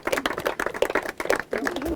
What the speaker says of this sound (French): Vous pouvez l'applaudir, il m'a très bien assisté.